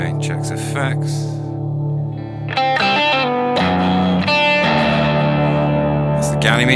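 An electric guitar is played through a Boss GT-1000 Core with an AC30-style amp model and parallel Ganymede reverb from HX Effects, ringing sustained chords with a lingering washy tail, loud and close, no talk over it.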